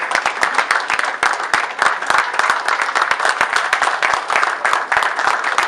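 Loud, dense applause from an audience honoring a female architect, sustained clapping filling the whole stretch with sharp individual claps audible within the wash.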